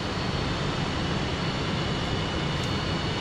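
In the DCS World flight simulator, a jet engine winds up from cutoff to idle as a dense, steady roaring rumble with a broad hiss, continuous and fairly loud throughout.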